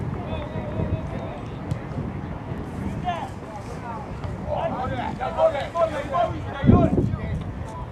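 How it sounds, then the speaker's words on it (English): Gusty wind buffets the microphone at an outdoor high school soccer match, a low rumbling rush under a commentator's steady talk, with distant shouts from the field and a stronger gust near the end. "Wind picking up a bit more."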